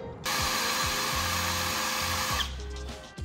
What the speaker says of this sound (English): after 10 minutes of drilling, it wasn't going anywhere